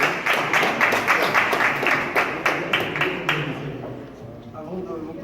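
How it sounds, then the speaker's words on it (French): An audience at a press conference applauds in steady, closely spaced claps that die away after about four seconds, with a voice speaking faintly underneath. "Je vous demande d'applaudir"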